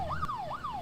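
Police siren in the horror video game Fears to Fathom: Home Alone, a steady wailing tone that rises and falls in two smooth sweeps, fairly close and clear with no talk over it.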